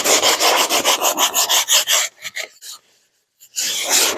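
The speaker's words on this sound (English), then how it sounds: "I'm going to keep on sanding for a little while till I just get that out of there." Wood being sanded by hand to strip leftover sticker adhesive, a rapid run of loud, rhythmic rubbing strokes that breaks into a few scattered scrapes, falls silent briefly, then resumes in full.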